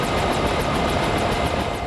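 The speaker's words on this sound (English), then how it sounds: "The helicopter passes over their home on the trip to the National Guard Armory." A Huey helicopter passes over a home during a flood, its loud, steady rotor chop and engine roar filling the air, with no voices.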